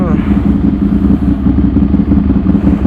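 Ducati Monster 796 with an 800cc two-cylinder L-twin engine, heard while riding: a steady, loud low-pitched engine rumble with a throbbing pulse, close to the microphone, with a voice faintly under it.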